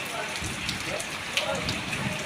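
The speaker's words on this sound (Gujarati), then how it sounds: "વરસાદ અત્યારે ભૂકા કાઢે છે।" Heavy monsoon downpour, the first rain of the season, pours steadily as a dense, continuous roar with one brief louder splash, while faint voices are present in the background.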